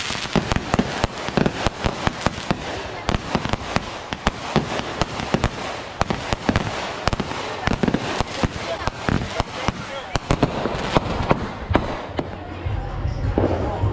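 Rapid, dense bursts of firecrackers and fireworks crackle and pop continuously, loud and close, with scattered voices mixed in.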